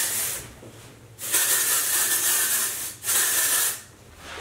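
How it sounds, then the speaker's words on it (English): Texturizing hair spray hisses from an aerosol can in three bursts: a short one, a long steady spray of nearly two seconds, then a briefer one, loud and close. "got my trusty Whey texturizing spray"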